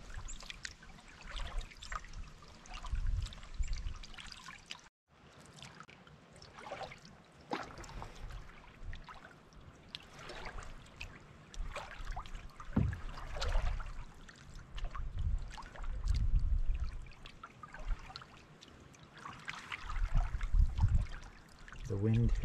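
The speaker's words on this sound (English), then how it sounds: "The wind has such a good push going across the lake here that it's putting rollers out." Wind-driven waves slosh and lap against a canoe on a lake, a close, uneven wash of water with gusty wind noise rising and falling throughout.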